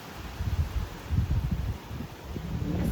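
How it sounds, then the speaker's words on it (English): Strong wind blows outdoors during heavy rain, gusty low buffeting and rustling close to the microphone, rising and falling over a few seconds with no voices. "It's so windy, like that trash can lid is literally just rolling away."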